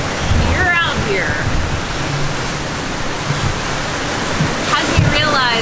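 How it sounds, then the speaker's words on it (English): Massive Pacific Ocean swells surge and break around a sailing boat at sea under moody skies, a constant loud wash of rushing water with occasional heavier crashes, plus faint whistling or creaking tones. "watching the just massive swells of water kind of come and go, and the waves crashing"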